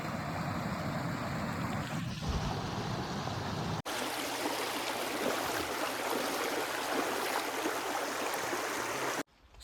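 A clear forest stream in dense jungle along the Narmada pilgrimage trail pours in a loud, continuous close rush of water, with a sudden break partway through and another near the end, no voices.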